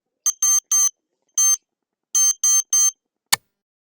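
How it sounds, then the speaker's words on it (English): Sharp electronic buzzer beeps from an ESP32 DIY smart clock alarm in two bursts of short repeated tones, loud and close, ending with a brief click. "a buzzer triggers alarm"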